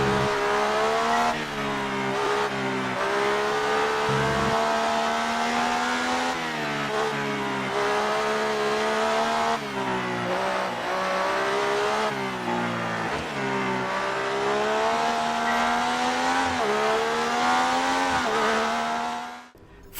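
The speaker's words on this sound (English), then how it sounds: "it's time for some classic car shenanigans" Classic racing car engine in the F1 2018 game screaming at high revs, sustained and loud with rising and falling pitch through gear changes and throttle lifts, alone for twenty seconds before cutting off at the end.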